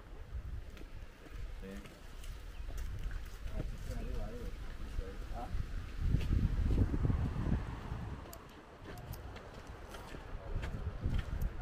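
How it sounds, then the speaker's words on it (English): Wind gusting across ancient hilltop ruins in Italy, a broad rumbling buffeting against the microphone that swells midway, with people talking faintly beneath it. "Whoa, it's windy up here."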